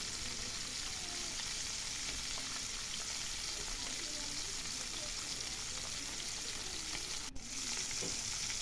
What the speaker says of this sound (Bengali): মাছ আমার ভাজা চলছে